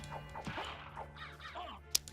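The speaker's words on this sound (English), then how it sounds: "These birds are going to be the death of me." Crows cawing, several harsh calls in irregular succession, moderately close, with a sharp knock near the end.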